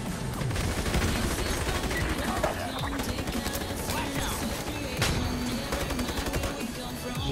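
Rapid bursts of gunfire from the online shooter Ironsight, a dense and continuous fusillade of overlapping shots close by, with sharper cracks standing out, loud throughout.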